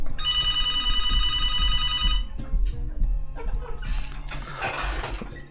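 A telephone rings with bright, steady electronic trilling for about two seconds, announcing an incoming call during a basketball talk show; low background noise and scattered clatter follow once the ringing stops.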